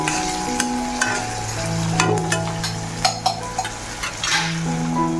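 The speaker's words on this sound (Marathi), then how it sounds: "निकिताने कांदा पोळायला ठेवलेला आहे जरा आपण ढवळूया" Chopped onion frying in hot oil in a home kitchen pan, a continuous close sizzle broken by scraping stirs and clinks of a spoon against the metal.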